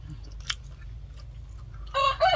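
A chicken clucking nearby, a couple of short bright clucks near the end over a low background hum, with faint chewing-like sounds earlier.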